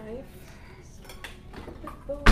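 A cooking pan is taken out and handled in a home kitchen during dinner prep, with faint scrapes and light knocks of metal and a sharp clatter at the end.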